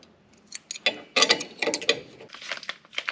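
A ratchet wrench with a 17 socket clicks in quick, uneven strings while loosening a shock absorber nut on a Dodge Ram, close and fairly clear with short pauses between bursts.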